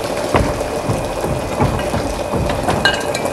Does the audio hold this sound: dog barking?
no